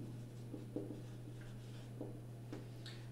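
A pen writing out a math formula, with scattered short scratchy strokes and taps close by, faint and alone over a steady low electrical hum.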